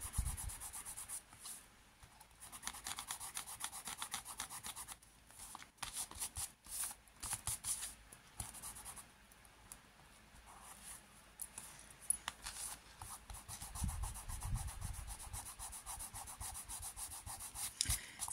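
Repeated brisk rubbing strokes as All Purpose glue is rubbed off paper during scrapbooking, close and dry with short pauses between bursts, no talk.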